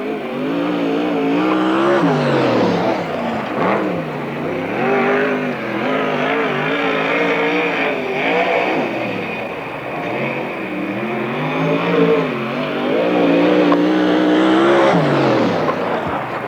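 Sprint cars race on the Marysville, California dirt track in NARC qualifying, engines roaring loudly and continuously as they rise and fall in pitch through the turns.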